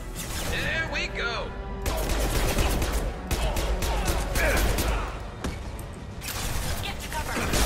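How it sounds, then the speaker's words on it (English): Rapid submachine gun fire in Mass Effect 2 crackles in repeated bursts, loud and close, layered with other combat noise and battlefield clatter, pausing briefly between volleys. "God, I hate this submachine gun."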